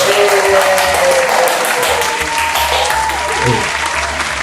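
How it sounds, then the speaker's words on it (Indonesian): Studio audience applause fills the clip, a dense continuous clapping from a crowd at a talk show taping, loud and steady throughout with faint voices underneath. "Tepuk tangan."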